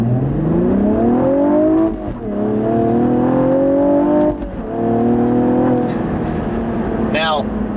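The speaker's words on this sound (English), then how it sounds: "basically the car will automatically blip the throttle" A 2016 Cadillac ATS-V with a six-speed manual gearbox blips its engine automatically to rev-match downshifts: several rising and falling engine note sweeps with short gaps between shifts, loud and close, with a brief whine near the end.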